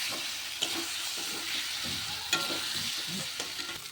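Spice paste with salt being stir-fried for an egg curry in a pan, a dense, close sizzle with rhythmic scraping stirs and light taps of the spoon throughout.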